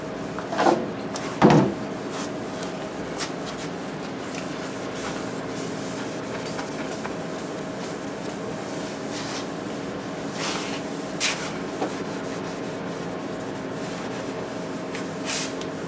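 A cloth rubs wax and silicone remover off a car's rear quarter panel in a steady, soft scrubbing. A couple of louder scuffs come near the start and a faint one later.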